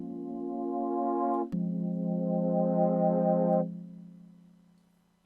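A synth pad patch on an Elektron Digitone holds a sustained, harmonically rich tone. It shifts to a lower note partway through and then fades out gradually, heard alone.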